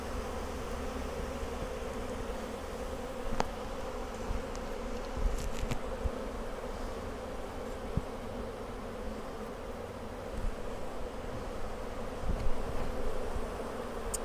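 Honeybees hum steadily around an open Flow Hive during a live colony split, a dense continuous buzz close up with occasional louder passes of single bees near the listener.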